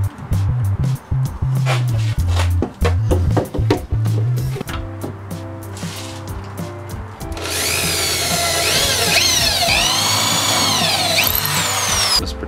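A power drill bores into a wall to mount a clear surfboard storage rack: short stuttering bursts of the motor first, then a long sustained run whose whine rises and falls in pitch, loud and close.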